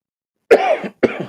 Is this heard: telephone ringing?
no